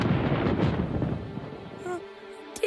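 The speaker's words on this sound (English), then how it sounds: "No, that was thunder. It means rain is on the way." Thunder rolls in as a loud, deep rumble that builds and then fades over a couple of seconds, followed by brief higher clatter at the end, in a cartoon scene.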